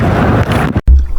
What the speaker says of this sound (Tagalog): Napakalakas ng hangin dito sa may barangay Ginarawayan.